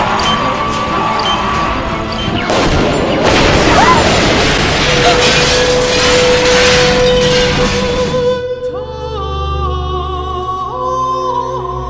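Rapid bursts and booming blasts of gunfire ring out through a chaotic Doctor Who battle, dense and loud for about eight seconds under raised voices, then give way to a sustained tonal backdrop.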